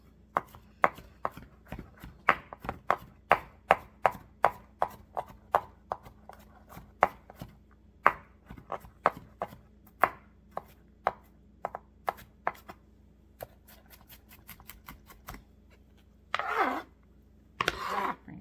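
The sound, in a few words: knife mincing garlic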